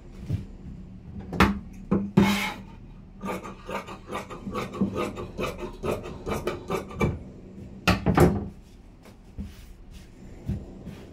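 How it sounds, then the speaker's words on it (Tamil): Scissors cutting through cotton blouse fabric for the sleeves, a run of close, dry snipping and rasping strokes in irregular bursts with short pauses, no talk. "அடுத்தது இப்போ கை கட்டிங் பண்ணிடுறேன்"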